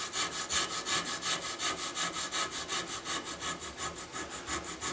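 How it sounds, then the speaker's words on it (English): A coarse riffler file is worked back and forth across a wooden gun stock, producing a steady, close rasping stroke roughly every quarter second, a bright scratchy rhythm with no talking. "I've got a fairly coarse riffler here."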